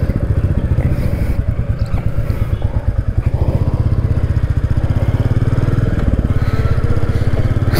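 A Royal Enfield motorcycle's engine thumps loud and close while riding, an even low pulsing beat that holds steady throughout with no talk over it.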